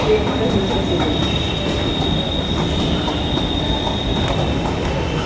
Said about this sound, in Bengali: তো মেট্রো স্টেশনে চলে আসলাম